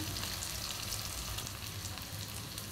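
Chopped onion and broken green chilies sautéing in oil with cumin seeds in a pan, a steady, even sizzle with constant fine crackle and no talking.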